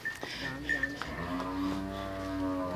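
A Nili-Ravi buffalo at a sale yard in Pakistan gives a long, steady low, a single sustained call close by with faint background noise and no talk.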